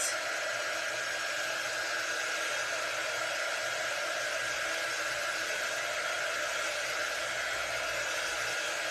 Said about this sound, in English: All right, let's dry this because we're going to line this up right next to it.